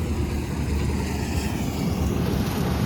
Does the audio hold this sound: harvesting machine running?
yes